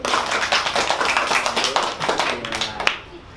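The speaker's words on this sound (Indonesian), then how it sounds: "Tepuk tangan dulu." A group of children clapping their hands together in a quick, uneven burst of many claps, fairly close, stopping near the end.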